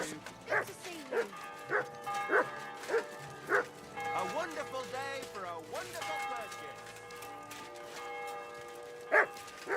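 A dog barks repeatedly in sharp, evenly spaced woofs, fairly close, with someone talking between the barks.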